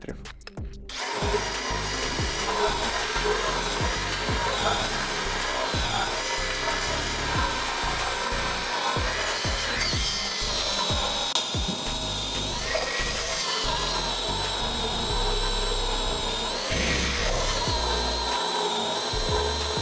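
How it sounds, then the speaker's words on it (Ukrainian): A Dnipro-M CD-200BC cordless drill bores a 35 mm Forstner bit into a pine beam. The motor drones steadily under load while the bit chatters and grinds through the wood for the whole stretch, close and loud. "За півхвилини 35-мм сверлом Форстнера вдалося зануритись на всю його довжину."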